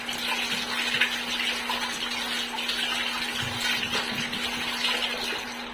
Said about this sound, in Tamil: இந்த பொரியல் கரண்டி கழுவி வச்சிடணும்